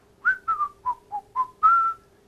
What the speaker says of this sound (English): I am whistling.